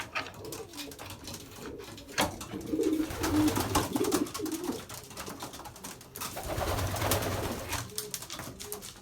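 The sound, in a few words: racing pigeons cooing and flying in loft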